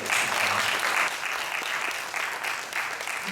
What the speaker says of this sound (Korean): 우리 윤선이가 할머니 거의 한 열흘 넘게 간호해서 박수 한번 해주세요.